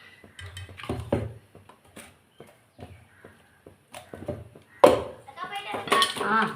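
A spoon clinks and scrapes against a bowl while ginger garlic paste goes in for a chicken 65 and clay-pot biryani lunch, giving scattered close metallic taps with a louder cluster near the end.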